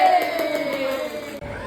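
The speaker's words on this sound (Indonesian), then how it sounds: "Tepuk tangan semua." Schoolchildren in a maths class clap quickly and rhythmically for a group while a loud, sustained group cheer rings over the claps, then cuts off sharply near the end.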